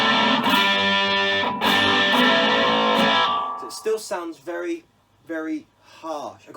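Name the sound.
electric guitar through distortion pedal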